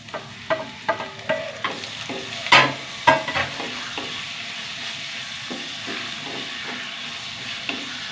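Onions and ripe tomatoes sauté in a pan, with a close, steady sizzle and hiss broken by several sharp scrapes and clinks from stirring, loudest early on and then settling into a quieter fry.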